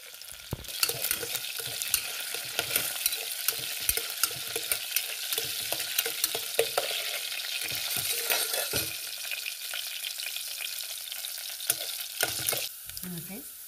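Crushed garlic fries in coconut oil with mustard seeds, crackling and spitting steadily while a spoon scrapes and stirs the pan in repeated strokes, close and without talk.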